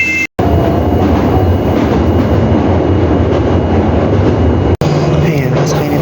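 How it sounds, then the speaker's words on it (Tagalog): Train riding through Kyoto, Japan, heard from inside with a loud, continuous rumbling roar of wheels on track and brief cut-outs in the sound. "Ayan, masakay na tayo sa train,"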